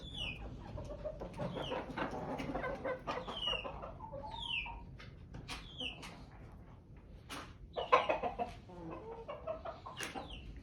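Several chickens cluck and chatter close by inside a coop, with scattered sharper calls and a busy, continuous murmur of fowl throughout.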